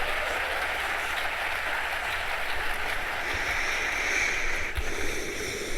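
Audience applause at a live discussion event, a dense, even wash of clapping held for several seconds at moderate distance, with no voices over it.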